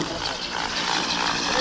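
A small drone's propellers buzz steadily at close range in a loud, unbroken whine that swells slightly toward the end.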